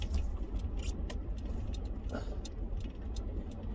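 A car engine idles steadily and close by, a continuous low rumble with faint ticking on top and no voices.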